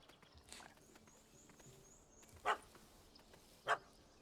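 A dog in The Witcher 3: Wild Hunt – Hearts of Stone gives two short, sharp barks well apart over quiet game ambience, moderately distant and without talk.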